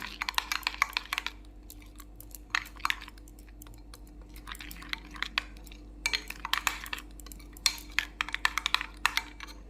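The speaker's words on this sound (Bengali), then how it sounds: "এখন আমি কাশ্মীরি রেড চিলি পাউডারটাকে টক দইয়ের সঙ্গে ভালো করে মিক্সড করে নিলাম" A spoon stirs Kashmiri red chilli powder into sour yogurt in a bowl, making faint, repeated clinks and scrapes in short bursts against quiet kitchen background.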